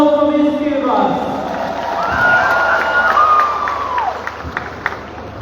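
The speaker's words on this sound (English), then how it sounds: "Round of applause for Ms. Kiribati." A crowd at a pageant's crowning night cheers and applauds, with a steady wash of clapping, shouts and a few whistle-like calls that swell and fade over about five seconds.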